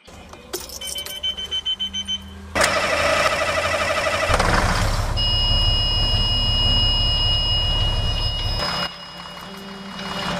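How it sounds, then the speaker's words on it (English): A Bluebird bus engine in the Rigs of Rods driving game cranks and starts after a few clicks, then settles into a loud, harsh idle with whining and rattling tones, a deep rumble joining mid-clip before the engine note drops away. "But this is what this bus sounds like."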